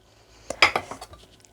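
A knife chops through thick pieces of chocolate pecan candy on a hard surface, giving a quick cluster of sharp clicking and clinking knocks, close but fairly soft, fading into lighter taps.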